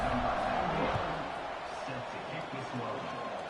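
A college football stadium crowd at a TCU vs West Virginia game roars steadily before a kickoff, a dense, loud wash of cheering under a commentator's voice.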